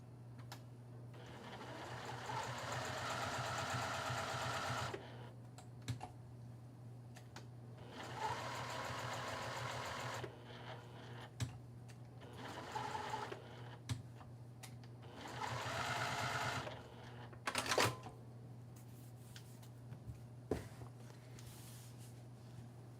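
A sewing machine stitches a fabric strip onto foam for a quilt-as-you-go bag in several bursts of steady mechanical whirring, separated by short pauses and small clicks, close and clear.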